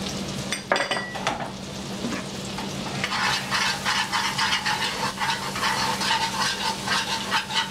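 Shallots and garlic sautéing in a pan for a carbonara alla vodka sauce, giving a steady close sizzle with stirring scrapes and a few utensil clinks against the pan, no talking.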